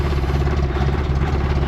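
The engine of a 1967 Morris Minor 1000 running steadily, close and loud, with an even, throbbing idle and no voices.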